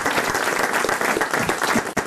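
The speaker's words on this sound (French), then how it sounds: "Ça s'applaudit." Studio audience applause for a longtime listener on a French radio comedy panel show, a dense, steady wash of clapping close up, sustained for about two seconds before a brief dip at the very end.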